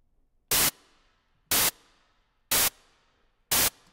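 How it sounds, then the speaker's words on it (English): Four short, loud bursts of white-noise static, evenly spaced about one second apart, each gated on by a snare drum hit through a sidechain, with near silence between them. "you listen carefully to that little burst of static"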